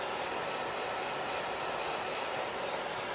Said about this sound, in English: I'm only using my hair dryer right now because I want to speed this along for you